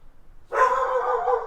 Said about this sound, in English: that's the next door neighbor's dog that you hear in the background